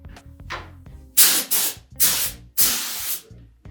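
A spray gun hisses out four separate bursts of lacquer onto a chair, each a loud airy spray lasting about half a second, with short pauses between.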